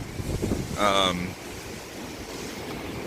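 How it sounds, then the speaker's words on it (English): Steady roar of churning ocean surf with wind buffeting the microphone at Folly Beach, Charleston, South Carolina, ahead of Hurricane Dorian; a voice briefly speaks early on over the constant rushing water. "That ocean is really, really churning."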